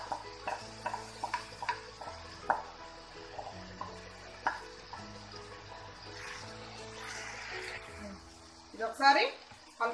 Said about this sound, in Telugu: ఇది ఒకసారి కలుపుకుందాం. కొద్దిసేపు ఫ్రై చేయాలండి చికెన్.